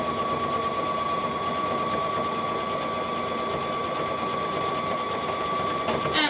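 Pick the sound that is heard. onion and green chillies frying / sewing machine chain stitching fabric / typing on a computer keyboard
sewing machine chain stitching fabric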